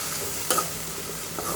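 Nayuruvi greens sauté in a pan, giving a steady close sizzle with faint stirring scrapes and a short sharp clink partway through.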